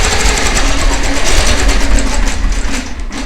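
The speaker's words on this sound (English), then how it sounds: "I'm just going to stitch down this side" A long-arm quilting machine stitches down the side of a quilt facing on the frame, a loud, steady mechanical whir that runs unbroken throughout with no talking.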